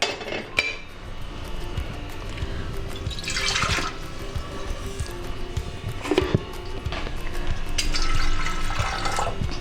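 Water splashing and pouring into a metal pressure cooker in bursts, with clinks of cookware in between, close by in a kitchen while cooking greens kootu.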